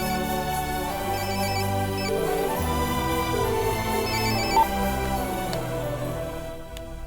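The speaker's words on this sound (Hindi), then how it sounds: "ये लो, रिंग जा रही है" A phone ringtone plays a steady, looping electronic melody for several seconds, loud and alone with no voices over it.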